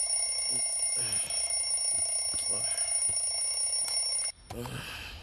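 An alarm clock rings with a loud, steady, high-pitched tone for about four seconds, then cuts off abruptly, followed by a few soft knocks and rustling.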